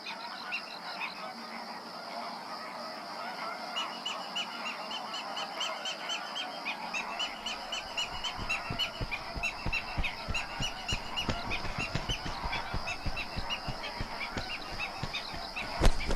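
A flock of flamingos honks and gabbles continuously, many overlapping nasal calls rising in density, with faint background ambience and no voices, in Andalusia, Spain.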